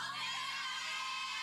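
Many girls scream together inside a house, making a dense, continuous, high-pitched roar of shrieking voices that holds at a steady loudness throughout.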